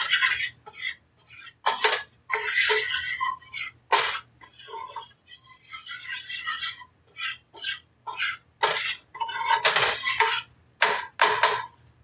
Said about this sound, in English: you just gotta stir it in